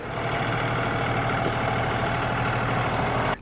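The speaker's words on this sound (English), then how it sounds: "here comes Aaron with the tractor" A tractor engine idles steadily at close range on a farm, a constant low, throbbing rumble with no talk over it, cutting off abruptly at the very end.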